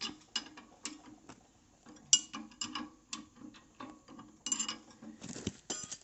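A wrench works loose a bolt in a string of quick metallic ratcheting clicks and clacks, close and fairly quiet, in short irregular bursts with pauses between.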